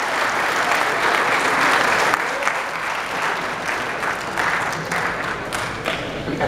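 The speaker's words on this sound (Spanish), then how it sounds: "De parte del Cuerpo de Bomberos, por favor, un aplauso para ustedes." Audience at a firefighters' safety congress breaking into loud, sustained applause, a dense crowd of clapping with some sharper individual claps, steady throughout.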